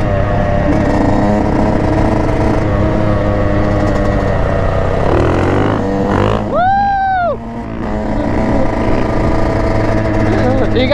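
A 2021 Yamaha YZ450 dirt bike engine runs steadily up close for the whole stretch, with a brief rising rev near the middle, while people talk over it.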